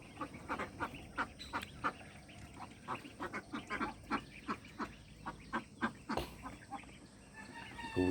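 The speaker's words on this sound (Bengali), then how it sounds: "দেখুন হাঁস মুরগি কবুতর" Ducks and chickens on a farmyard morning, quacking and clucking in a steady stream of short, overlapping calls close by, with no talking.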